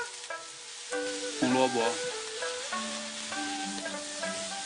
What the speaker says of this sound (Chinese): 锅里少倒一点油，油热了倒入豆腐。 翻炒几下